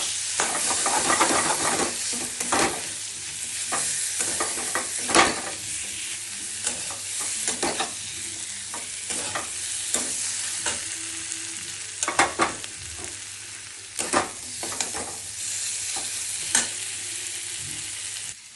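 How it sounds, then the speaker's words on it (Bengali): Fried jackfruit tipped into a pan for a Bengali vegetable dish and stirred, giving steady frying sizzle broken by repeated sharp scraping and clinking of the spoon against the pan, close and continuous, with no talking. "এখন কাঁঠাল ভেজে রেখেছিলাম এতে দিয়ে দিচ্ছি।"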